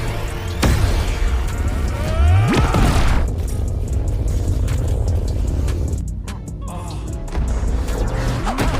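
A car slams into Knuckles in a Sonic movie scene: a heavy booming impact with a crash and a sweeping whoosh, followed by a dense, loud cinematic rumble that stays steady.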